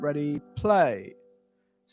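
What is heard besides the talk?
No everyday noises stand out.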